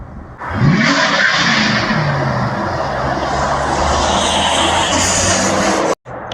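The engine of a 1969 Ford F100 fitted with a 4.6 revs loudly outside as the truck drives around, a sustained throaty roar rising and holding before cutting off briefly near the end.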